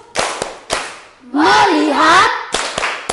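In a classroom, a few sharp hand claps in a quick rhythm, a focus clapping chant, then a loud sustained vocal sound, followed by more crisp claps.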